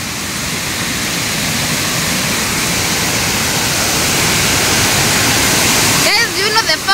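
Waterfall on the Kenya-Tanzania border pours in a steady, loud, close roar of rushing water, broadband and continuous, with a brief burst of voices near the end.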